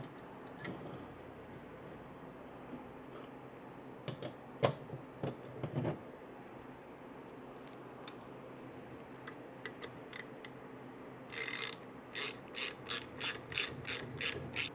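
Ratchet clicks while tightening a 7/16 nut on Ciro 3D highway pegs for an Indian motorcycle: scattered single clicks early on, then a quick, steady run of sharp ratcheting strokes near the end, close up and without talk.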